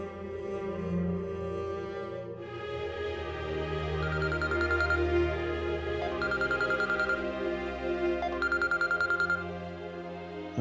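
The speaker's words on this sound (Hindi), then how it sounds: "मैं आलियान को फोन करती हूँ, मोना का पूछती हूँ वो कैसी।" A telephone call is placed, sounding as three evenly spaced bursts of electronic ringing tone that pulse under sustained dramatic background music, with no voices present.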